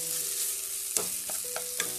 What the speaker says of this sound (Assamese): এইখিনি পেলাই দি এতিয়া এনেকৈ অলপ ফ্ৰাই কৰিম